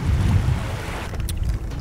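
Choppy waves wash and slap around a small paddled boat out on open water, with strong wind buffeting the microphone in a steady low roar throughout.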